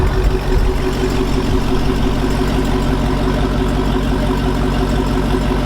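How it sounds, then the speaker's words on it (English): A Dodge Challenger or Charger Hellcat engine idles steadily with a low, even factory exhaust rumble, constant and close, with no talking. "The exhaust is not super obnoxious."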